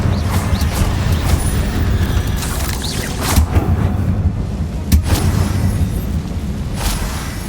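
A Confringo explosive spell goes off in the Hogwarts Legacy video game: deep rumbling booms with a couple of sharper blasts over continuous low game noise.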